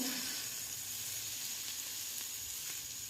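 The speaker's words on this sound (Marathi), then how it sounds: "हे बघ छान मस्त चरचर आवाज पण येतो आहे सगळं फ्राय होत आहे छान" Hot oil poured over cut mango pickle, giving a faint, steady crackling sizzle that runs evenly for about three seconds with no talking.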